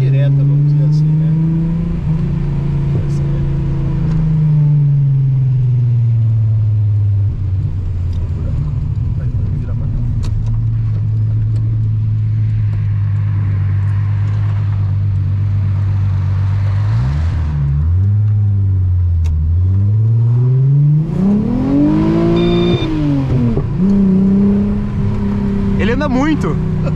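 A six-cylinder Volkswagen Golf with a ceramic clutch accelerates hard, its loud engine drone holding steady, then dipping and climbing in pitch through gear changes as voices talk over it.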